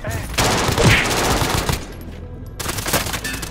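Rapid automatic gunfire in a first-person shooter game, with a PPSh submachine gun in use. Loud, dense bursts run almost continuously, break off briefly, then start again.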